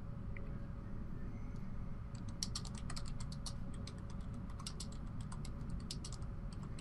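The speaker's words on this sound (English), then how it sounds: "I'm typing to him." Rapid clicking keystrokes on a computer keyboard, starting after a couple of seconds and continuing in irregular bursts over a low steady hum.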